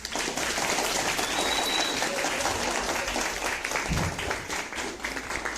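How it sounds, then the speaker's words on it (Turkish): Schoolchildren in a classroom clap for themselves, a dense, steady patter of many small hands lasting throughout, fairly close and even in loudness, with a brief thump near the end. "Şöyle bir kendinizi bir alkışlayın bakayım."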